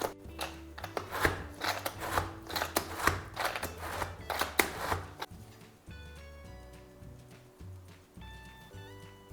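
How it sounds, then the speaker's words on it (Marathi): Green chili, garlic and cumin chopped fine in a hand-pulled cutter, giving bursts of rapid rough chopping and whirring strokes, close and fairly loud, then quieter clicks and rattles with soft background music tones. "तर इथे ना एकदम बारीक चिरून घ्यायचे, त्याच्यासाठी इथे मी कटरचा वापर करत आहे"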